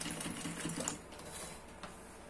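A sewing machine stitches along the folded edge of a fabric baby changing pad, a faint steady whirring with soft mechanical ticking, heard alone and quiet.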